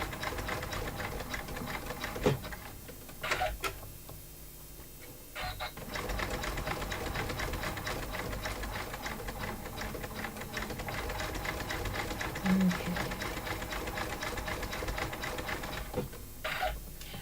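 An embroidery machine stitches with multi-tonal or gradient thread, making a steady, busy mechanical whirr and rapid needle clatter that runs nearly unbroken, close and fairly loud, with short pauses and no talking.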